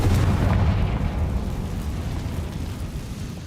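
A Confringo fire spell exploding in the video game Hogwarts Legacy, a heavy booming blast at the start that trails off into a long rumbling, crackling decay.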